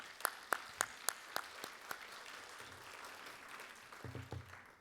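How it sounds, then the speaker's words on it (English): Applause for students at a school board meeting: a sparse scattering of sharp claps, fairly faint and distant in a large room, thinning out and fading after a few seconds. "Let's give those students a round of applause as well."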